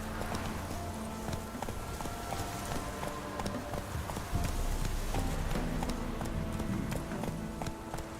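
Roach the horse gallops in The Witcher 3: Wild Hunt, Blood and Wine, a steady, rapid clip-clop of hooves running throughout, close and continuous over a low layer of game music and ambience.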